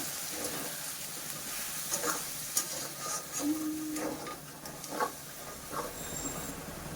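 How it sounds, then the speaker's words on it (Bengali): Prawn and cauliflower curry with spice paste being stir-fried in a pan, a low continuous sizzle with intermittent scraping and stirring scuffs, faint and steady throughout. "এবার এর মধ্যে দিয়ে দেবো ভালো করে এটাকে কষিয়ে নেব"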